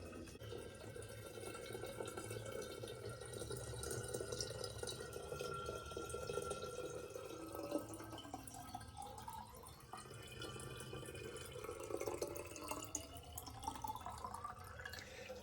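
Fresh water flushing continuously through an outdoor tank whose overflow runs to a pond, heard as a steady close trickle with dripping and gurgling throughout.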